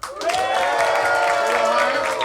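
A comedy club audience breaks into sustained applause and cheering, loud and continuous throughout, with voices mixed into the crowd noise.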